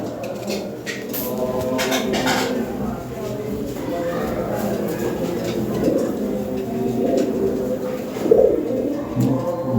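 Lahori Sherazi pigeons coo in low, throaty, repeating calls close by, layered over a busy background with some human voices.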